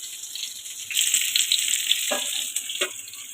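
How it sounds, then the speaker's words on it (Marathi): Stuffed bitter gourds fry in oil in a pan with a steady bright sizzle and crackle, close and continuous, with a couple of soft clinks and no talking. "पहिले आपण एका बाजूने फ्राय करून घेऊया आणि नंतर दुसऱ्या बाजूने फ्राय करूया"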